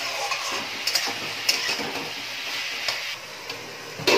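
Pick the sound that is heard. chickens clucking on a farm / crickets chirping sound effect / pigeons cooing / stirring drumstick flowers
stirring drumstick flowers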